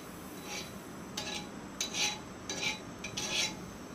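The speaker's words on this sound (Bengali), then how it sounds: "আমি বারবার এই দিক ওদিক করে ভালো করে নেড়ে দিচ্ছি।" A spoon scrapes and taps against a pan while an eggless pudding mixture is stirred, giving four or five short, quiet clinking strokes spaced unevenly over a low background hum.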